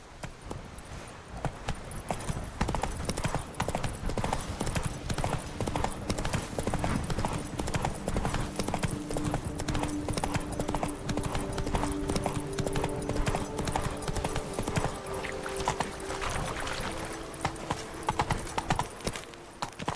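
Roach, a horse in The Witcher 3: Wild Hunt, gallops with a steady, continuous clip-clop of hooves that runs the whole time, close and fairly loud beneath sustained game music.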